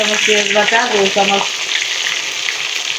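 Garlic paste hits hot oil for a prawn dopeyaza, crackling loudly and steadily up close, with a person speaking briefly over the first half.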